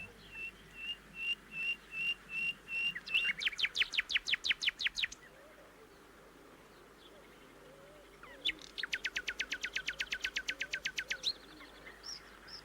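A nightingale sings in two bursts of rapid, repeated whistled notes, each building into a fast trill, with a pause between them. The bird is clear and moderately close over a faint background.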